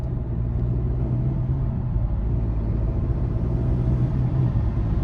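A 2023 Hyundai Elantra N engine at full throttle, stuck below 2000 RPM and shaking, heard from inside as a loud, steady low rumble and drone that never climbs in pitch, with no talking.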